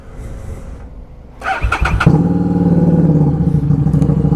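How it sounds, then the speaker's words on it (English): A 2015 Harley-Davidson XG750 Street motorcycle with its exhaust baffles removed starts up after some mechanical clatter, then settles into a loud, throaty, rumbling idle right nearby. "It's got the baffles taken out, so it's very obnoxiously loud."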